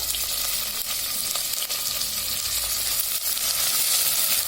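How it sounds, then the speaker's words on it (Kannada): Chopped tomatoes fry in a hot pan for a vegetable dal, giving a dense, continuous close sizzle that stays loud and even throughout with no voices. "ಸ್ವಲ್ಪ ಹಸಿ ವಾಸನೆ ಹೋಗೋ ತನಕ ಫ್ರೈ ಮಾಡ್ಕೋಬೇಕು. ಈಗ ಟೊಮೊಟೊ ಸೇರಿಸ್ಕೊಳ್ಳೋಣ."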